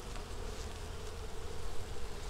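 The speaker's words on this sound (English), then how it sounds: "So you can see the bees are working on it here." A dense, continuous buzz of many honeybees on a hive frame, close and steady, with a low hum underneath and no voices.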